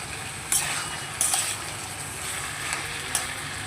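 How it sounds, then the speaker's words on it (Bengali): Taro greens and hilsa fish head being stirred in a pan with dried red chillies, a steady broad sizzle with a few sharp utensil scrapes against the pan, close and moderately loud, no talking. "এবার দেখো খুব সুন্দর করে আমি এটাকে মিশিয়ে নেব"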